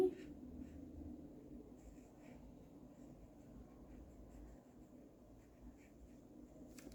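A pen or marker colors in a number on a paper budget envelope tracker, giving a soft, continuous scratching and rubbing close up over faint background noise, with no talk.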